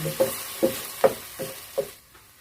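Thai shrimp paste chili paste stir-fried in a pan, five short spatula knocks and scrapes spaced about half a second apart over a soft sizzle.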